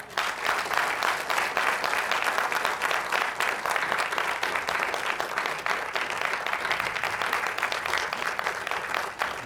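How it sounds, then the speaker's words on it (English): An audience applauds after a speech at a book release event, steady dense clapping from a crowd that holds at an even level throughout with no voices over it. "I think he deserves a much louder applause"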